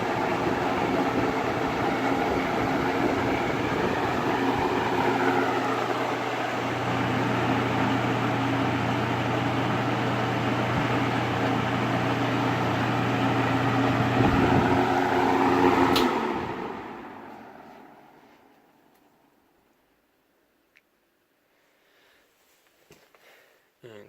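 An Edison box fan runs at high speed with a loud, steady, close whoosh and hum, then is switched off and spins down, its rush fading away to near silence.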